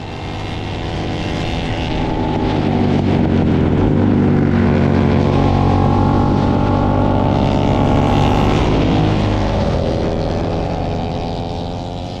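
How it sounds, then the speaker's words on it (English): A loud 45-horsepower single-cylinder Kramer racing motorcycle at Barber circuit, heard close with a harsh, rising and falling engine note as it accelerates and shifts through gears, swelling in and fading out across the pass. "it's such a fun bike. It's loud, it sounds great."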